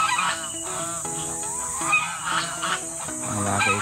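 Geese at a goose market in the Philippines honking repeatedly, a close, dense chorus of nasal calls over a steady background hiss.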